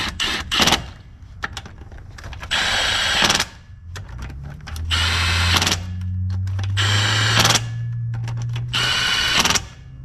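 A power tool set to its lowest setting runs down bolts on the locking hubs of a 1955 Willys CJ5 Jeep, giving several separate whirring bursts of a few seconds each with a rising hum and short pauses between them.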